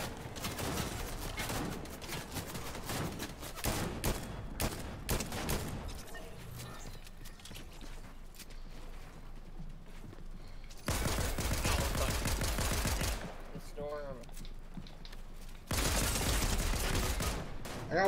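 Bursts of automatic gunfire in the Fortnite video game, with dense rapid volleys clustering at the start and in two loud stretches later, separated by quieter passages of game sound.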